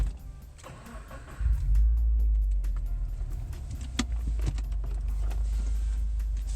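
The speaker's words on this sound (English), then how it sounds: "start the car real quick" A Subaru WRX/STI engine cranks and catches about one and a half seconds in, then settles into a steady, close idle rumble with a few faint clicks over it.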